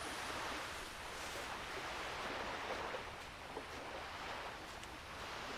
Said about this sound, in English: Man, that water is loud.